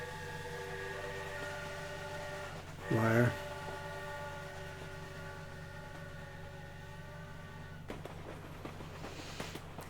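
Train in a cutscene from the Shadow Man: Remastered video game, a steady low rumble with a short rising whistle-like tone near the three-second mark, followed by later clanks; a voice speaks briefly.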